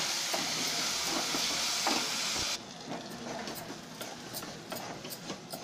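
Cumin powder and red chili powder roasting in a hot pan for a pointed gourd and yogurt curry, a steady close sizzle with scraping stirs, the hiss dropping noticeably partway through, no talking.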